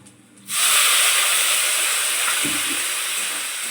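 Water poured into a hot pan of cooking sago dish sets off a sudden loud sizzling hiss that holds steady for several seconds, close and alone.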